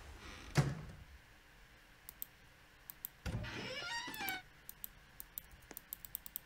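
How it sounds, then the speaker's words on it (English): A door creaks open in a horror video game set in a dark house, a loud scrape with a creaking sweep following a sharp knock, then scattered soft clicks in quiet surroundings. "that door sounds so loud"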